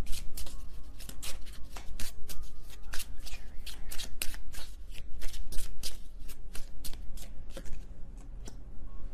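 A tarot deck shuffled by hand up close, rapid riffling bursts repeating in a steady rhythm for several seconds, with no talking.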